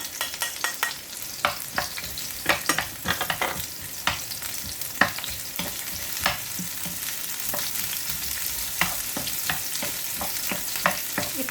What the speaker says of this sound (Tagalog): Gisa lang natin ng konti itong sibuyas.